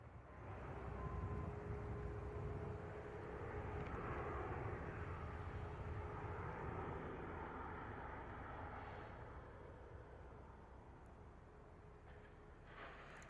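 A Ryanair T-tail jet takes off at Bristol Airport, its engines a broad, distant roar that swells and holds steady before slowly fading, with no voices over it.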